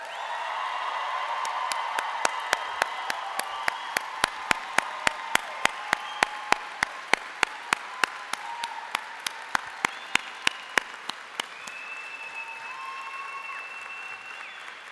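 Crowd at a WestJet 787 Dreamliner hangar reveal applauding Clive Beddoe: broad, continuous applause with a run of loud, regular claps standing out near the mic, a few whoops, fading toward the end.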